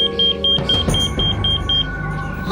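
A temperature alarm on an overheating cold-storage box meant to stay between -24 and -30 degrees beeps in a steady series of loud, evenly spaced electronic tones over a droning hum.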